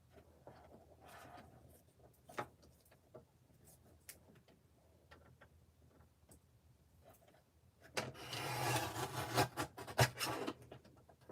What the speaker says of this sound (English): So let me just cut this with my trimmer now and I can get a straight edge.